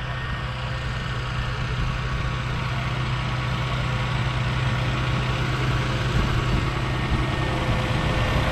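A tractor engine ticks over at low revs, about 1200, while pulling a five-furrow plough through a field, a steady low rumbling drone throughout, close and unbroken, with no talk.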